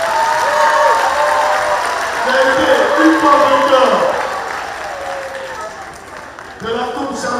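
Audience at a sports panel of the Djegueya festival breaking into clapping and cheers, the applause swelling and fading beneath a voice speaking over it.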